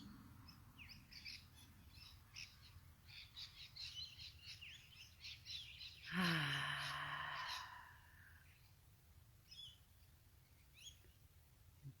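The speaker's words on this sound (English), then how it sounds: "all the birds announcing that they're still alive" Birds sing and chirp in a thin, busy chorus at sunrise, many small calls repeating from mid-distance, with one louder, closer burst of calling standing out partway through before the chorus settles back to a quieter level.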